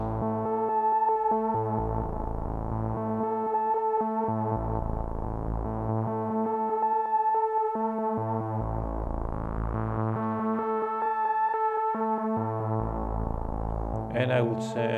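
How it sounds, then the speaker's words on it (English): A Dreadbox modular synthesizer drone with an LFO modulating it, rising and falling in cycles of roughly two seconds, thick and buzzy with a deep pulsing bass, steady and alone, ending in a brief bright burst. "I will also need an LFO to give some modulation to the sound."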